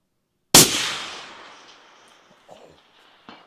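.338 Accuracy International AXMC rifle fired at a steel target 700 yards away: one sharp, loud shot with a long rolling decay, followed by faint distant knocks a couple of seconds later.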